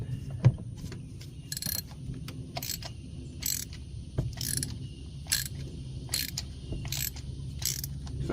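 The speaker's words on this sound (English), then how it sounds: "Then using our 5/8 socket, we'll get the spark plug out." A ratchet with a 5/8 socket removing a spark plug from a Ford F-150 3.7L engine, giving repeated bursts of close, crisp metallic clicking at a steady pace, with no talking.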